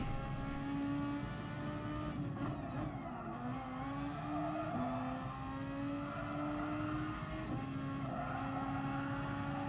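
Race car engine in a GT racing video game revving hard, its pitch sweeping up and down through gear changes, loud and continuous with brief tire-scrub noise, no voices.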